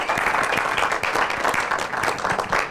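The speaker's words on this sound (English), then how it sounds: "give Bob a big round of applause" A seminar audience on team communication gives Bob a loud, dense round of clapping that continues steadily throughout the short stretch.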